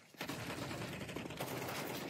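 Rapid bursts of gunfire in a Counter-Strike 2 match, dense fusillade-like shots filling the whole moment at low overall level, with no talk over it.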